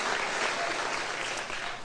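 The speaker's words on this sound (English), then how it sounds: "yeah, you got to clap for that" Dense, steady clapping from a live audience at a talk, applauding mention of the 2002 Olympic Winter Games, sustained evenly at full strength for the whole stretch with no voices over it.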